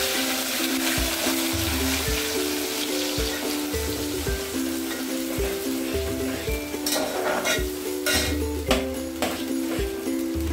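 Ground masala paste hitting hot tempering oil with curry leaves for Puneri misal, a loud continuous sizzle and bubbling with rhythmic low thumps and scraping stirs close by.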